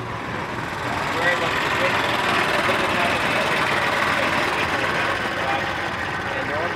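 A Honda Accord 1.5 liter gasoline direct injected engine of 195 horsepower runs steadily on an experimental STOL aircraft, a continuous broadband drone held at constant level throughout.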